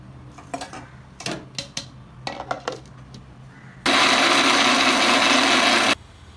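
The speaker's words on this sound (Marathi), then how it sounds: "एकदा फिरून घेतलं मिक्सर" Several close clicks and knocks as a kitchen mixer grinder is set up, then its motor roars loudly and steadily for about two seconds, grinding soaked lentils with garlic and ginger into medu vada batter, before it cuts off abruptly.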